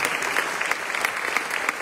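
A lecture audience gives steady, even applause for Leslie, a brief dense patter of many hands clapping at moderate loudness.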